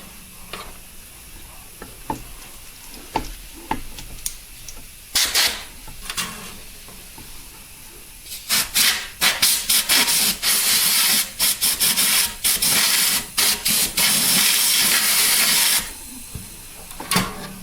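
Compressed air blowing across fresh glue on an acoustic guitar top being repaired, a loud broadband hiss that comes in short spurts and then runs almost continuously for several seconds.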